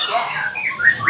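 A canary sings in short, bright warbling phrases with rising chirps, close and clear, no voices, at a bird kiosk.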